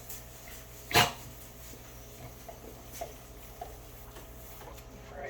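A dog gives a single sharp bark close by in a kitchen during backsplash installation, followed by a few faint scuffs and soft household noises against a low steady hum.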